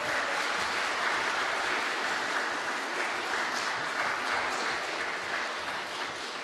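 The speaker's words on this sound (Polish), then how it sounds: "Wielkie brawa." Audience at a Polish Christmas carol and pastoral song competition applauds a choir and its conductor, a dense, steady wash of clapping that stays loud and even throughout with no voices over it.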